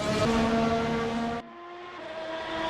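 A race car flies down the back straight at Sepang at around 300 km/h, its high engine whine steady and distant, then it drops suddenly in pitch and level as it passes.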